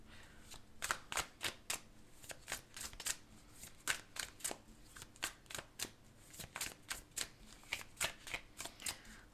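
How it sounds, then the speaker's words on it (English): A very large oversized deck of cards split into two halves and riffle-shuffled, giving a steady run of crisp, close fluttering bursts in quick rhythmic succession with no talking. "I'm going to have to divide it into two to shuffle."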